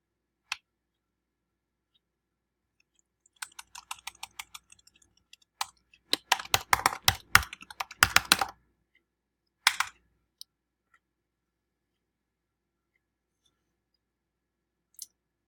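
Keys clack on a computer keyboard as a document title is typed in Google Docs, bursts of quick close taps in short runs separated by pauses, with a few isolated clicks before and after, quiet and alone.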